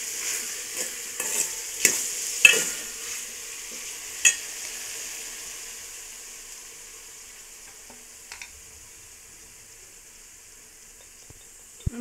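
Pulichakeerai kuzhambu with brinjal being stirred in a pan, a soft steady sizzle of frying with several sharp scrapes and clinks of the spoon early on, then quieter bubbling.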